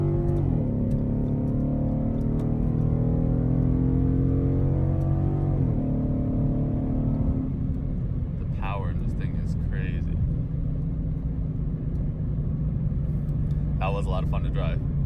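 A loud 2017 Ford Mustang GT V8 rumbling steadily while driving, its engine note rising then falling as it shifts, with someone talking over the engine drone later on.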